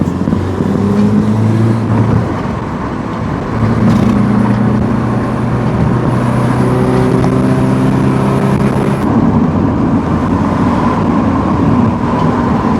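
A Rover 620 with a 2 litre petrol engine drones steadily while driving, a loud continuous cabin hum with shifting tonal revs as it bobs along at speed.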